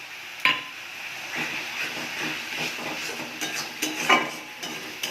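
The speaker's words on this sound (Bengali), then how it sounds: "এবার আমি টমেটো দিয়ে দিচ্ছি। এখানে হলুদ, লঙ্কা, কাশ্মীরি লঙ্কা আর জিরের গুঁড়ো দিয়ে দিচ্ছি।" Tomato with turmeric, chili, Kashmiri chili and cumin powder frying in a pan for Indian curry, a continuous close sizzle with irregular stirring scrapes and a few sharp spoon clinks against the pan.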